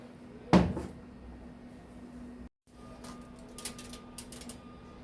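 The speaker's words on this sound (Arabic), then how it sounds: "وهقفل بقى الغطا واسيبه بقى يهدى شويه" A lid is clapped shut on a cooking pot of rice, one sharp knock near the start, followed by faint kitchen clatter and light taps in a quiet room.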